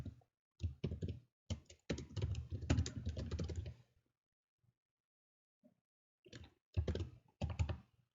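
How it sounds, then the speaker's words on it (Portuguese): Bursts of computer keyboard typing, with clustered key clicks separated by short pauses, close and fairly quiet in a calm room. "Eu vou digitar uma mensagem aqui"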